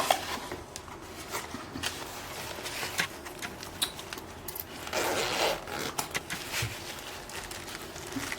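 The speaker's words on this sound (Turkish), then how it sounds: "açalım arkadaşlar kutumuzu" Cardboard box of a Hometech travel electronics set being opened, with close scraping, rustling and crinkling of packaging in quick irregular bursts at a quiet level, no speech.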